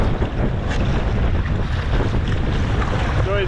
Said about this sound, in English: I think I'm just going to go ahead and paddle my way in, get a good workout in